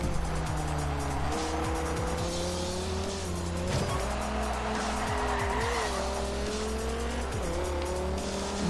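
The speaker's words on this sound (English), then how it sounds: "Pull, Viper, pull! Those turbos ought to kick in at some point." Dodge Viper with large turbos racing in Forza Horizon 2, its engine roaring loud and continuous through repeated gear shifts, with tire squeal and skidding mixed in.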